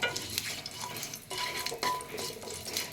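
Broken bay leaf and dried chilli, with five-spice, fry softly in a little oil for a green mango chutney, a faint close crackle broken by gentle stirring scrapes and light pan clinks.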